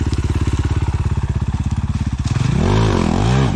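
Enduro motorcycle climbing a hill, with its engine chugging in a fast, steady, throbbing rhythm up close and then rising into a louder, wavering rev near the end.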